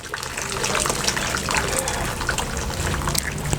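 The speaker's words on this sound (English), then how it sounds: "So now I remove this from the hot water" Wax-coated fabric lifted out of hot water, a close splashing gush and trickle of water running and dripping off the cloth, steady throughout.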